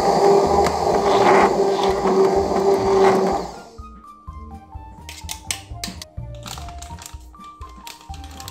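Banana-and-plantain bread batter is whirred in a blender or mixer: a loud, steady machine drone for about three seconds cuts off abruptly, leaving quieter scattered clinks and knocks.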